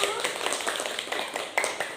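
Students in a classroom clap for group one after its presentation, a short burst of scattered, fairly close hand claps with a voice talking over them.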